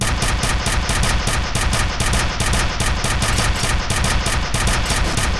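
Weapon fire in the shooter game F.E.A.R. Extraction Point comes as a loud, continuous automatic burst of rapid, evenly spaced shots.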